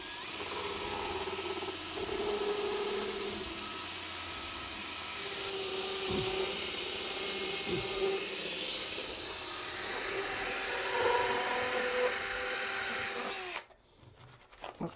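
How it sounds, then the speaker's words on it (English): A loud, continuous power tool whines and hisses steadily for over ten seconds while cutting, then cuts off abruptly, leaving a few faint knocks. "I'm looking to cut about 5 inches off of that pipe"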